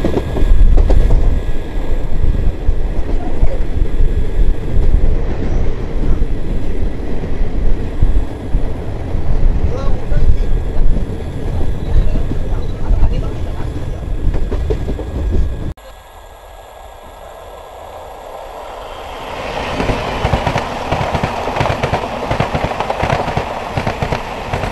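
The 18044 Bagha Jatin Express rumbles loudly and continuously from on board, with rhythmic clattering wheels. The roar drops suddenly partway through, then rises again to a steady, quieter run.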